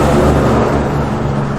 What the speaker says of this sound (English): truck going past